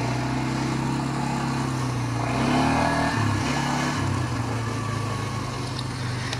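A motorcycle engine revving during a wheelie on a gravel-strewn road, a steady droning hum that rises in pitch and swells louder midway, then settles back to a lower idle-like tone.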